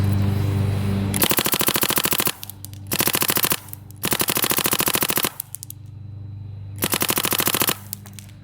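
A paintball marker fires in rapid bursts of about fifteen shots per second, fed through a Virtue Spire 4 hopper in a speed test, with four long strings of shots separated by short pauses.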